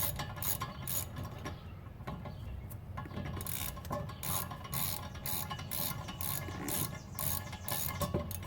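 The electric parking brake motor on a Volvo S60 retracts the rear caliper piston, a close, quiet mechanical ratcheting whir with repeated clicks and grinding pulses that runs continuously without speech.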